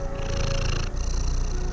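Silk, a pet cat in a home kitchen, purrs steadily and loudly up close, a continuous low rumble running the full length with a brief shift midway and no talking.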